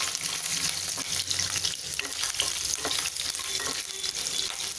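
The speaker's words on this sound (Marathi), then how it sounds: "तेल आपलं तापलं आहे, त्यात आपण आलं आणि लसूण घालणार आहोत।" Ginger and garlic fry in hot oil with an even, close sizzle and light crackling, a continuous spattering hiss throughout.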